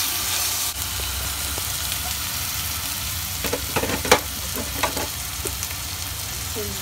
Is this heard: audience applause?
no